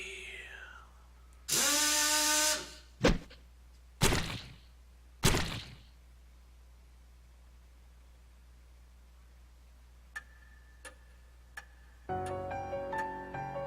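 Drill attack effects from the horror game Death Mark: a loud sustained whirring burst, followed by several sharp grinding drill strikes, then faint ticks and a closing electronic tone.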